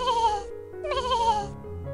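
Cartoon sheep from the Desktop Sheep Windows desktop mini game bleat twice in quick succession, each call a wavering, buzzy tone that stands alone, loud and close.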